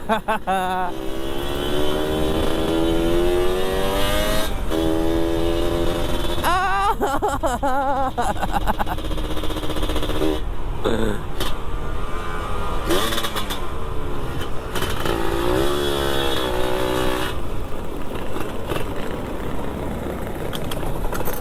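Two-stroke motorcycle engines rev up and down several times in bursts at a night riders' meetup in Makassar, with people talking loudly over and between the revs.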